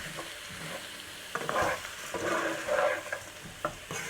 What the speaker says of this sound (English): Then we add the washed up rice and give it a nice mix.